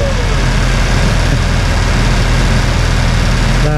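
Jeep TJ engine idles with a steady low rumble and even, unchanging drone, close by and alone.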